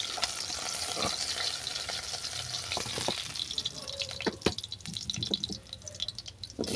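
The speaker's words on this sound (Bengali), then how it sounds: "এই তেলের মধ্যে আলুটাকে ভেজে নেব।" Potatoes frying in oil after fish, a bubbling sizzle with scattered pops and spoon clinks that grows more sputtery and uneven midway, close and moderately loud, without talk.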